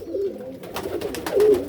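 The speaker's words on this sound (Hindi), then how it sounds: "टैडी कबूतरों के बच्चे हैं" Young Teddy pigeon chicks in a breeding crate give soft, low cooing calls, with a longer coo near the start and another near the end, over faint background rustle during hot weather.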